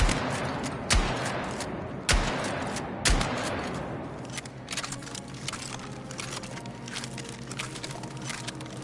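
Hip-fired gunfire in the Battlefield 6 video game: three sharp, loud shots about a second apart, followed by a rapid crackling spray of quieter fire that tails off.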